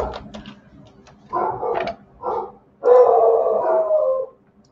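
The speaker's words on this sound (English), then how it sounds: "Yeah, he's howling." A dog named Wilbur howls close by indoors in several drawn-out bursts, with the final howl long and sustained and short quiet gaps between.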